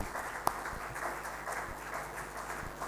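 Applause from the audience at an International Women's Day celebration at the Peace Center in Lahore, a steady, moderately faint wash of clapping that carries on for the full stretch with no one speaking over it.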